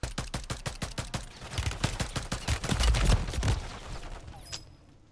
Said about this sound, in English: I'm just getting shot at from multiple different areas.